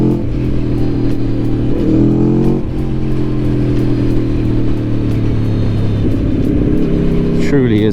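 A 2021 Aprilia Tuono V4 Factory motorcycle engine roars loud and close as the throttle opens, with a steady, rich drone that holds and shifts slightly in pitch.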